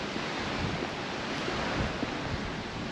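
Steady seaside wind at St Peter Port, Guernsey, a continuous broadband rush with gusty microphone buffeting and possible surf beneath it, loud and unbroken, with no talk.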